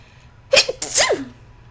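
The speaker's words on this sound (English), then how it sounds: "yes, that is my sneeze" A single sharp sneeze, a quick inhaled catch followed by a loud burst, close to the listener with no talking.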